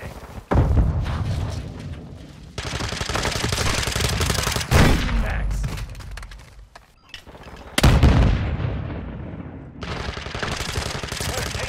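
Heavy automatic gunfire in a Call of Duty: Modern Warfare II multiplayer match, loud sustained bursts with booming impacts, broken by brief pauses before the firing resumes hard again.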